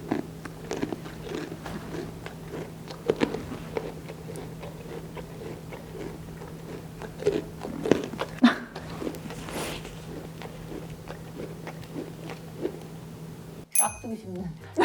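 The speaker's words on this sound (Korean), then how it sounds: "그리고 씹을 때 소리도 되게 힐링돼요." A miniature horse, billed as the world's smallest, chews a small treat with a series of close, soft crunching bites at an irregular pace, with faint voices in the background.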